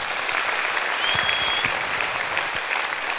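An audience at a concert honouring mothers claps loudly and evenly for about three seconds, a dense, sustained burst of applause with no voices.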